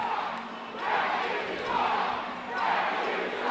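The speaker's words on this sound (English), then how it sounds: "Crowd at the Scope voicing their displeasure." Hockey arena crowd at the Scope in Norfolk voicing displeasure during an ECHL game, a loud sustained roar of many voices swelling and easing in slow waves, with no single talker standing out.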